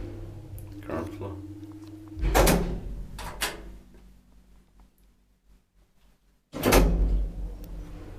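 Old Kone traction elevator doors opening at the ground floor of a Finnish apartment building: a couple of loud, sharp door clunks and sliding rumbles close by, separated by a quieter stretch, with faint talk in the background.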